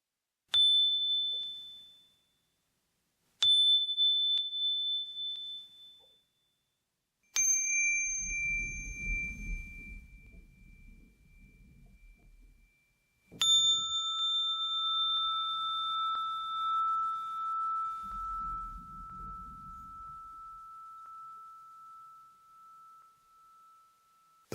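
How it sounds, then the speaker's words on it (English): Meditation bells and chimes ring out one at a time in a quiet space, each clear struck tone sustaining and slowly fading before the next. Soft low rumbles from deeper vessels or gongs join partway through. "The resonance, the frequency, the sound of the bells, the chimes, the vessels, the gongs create sacred space."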